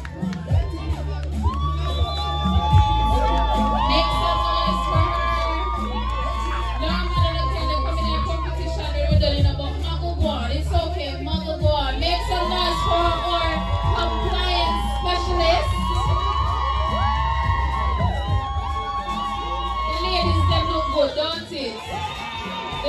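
A crowd at an all-white Christmas party at Bellefield Great House cheers, whoops and shouts continuously and loudly, with excited voices and a host talking over the steady roar.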